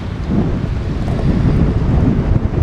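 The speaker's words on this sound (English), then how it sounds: "Pretty windy out here. Pretty dang windy." Strong gusty wind on a winter bike commute in sleet and rain, a loud low rumbling roar battering the microphone steadily throughout, with no voices.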